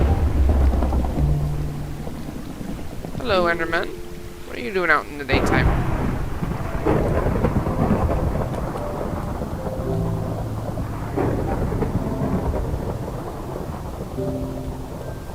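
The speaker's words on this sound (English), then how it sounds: "it seems to be the center of the storm right there" A Minecraft thunderstorm in a swamp biome rumbles and rain hisses steadily throughout, a loud continuous wash with deep rolling thunder, while a person talks over it and brief game creature calls sound partway through.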